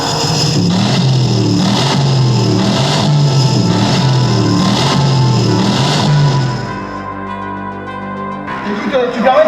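A car engine runs and revs under steady chatter, its loud mid-pitched drone rising and falling in rhythmic surges, then cutting out before a fresh burst of sound toward the end.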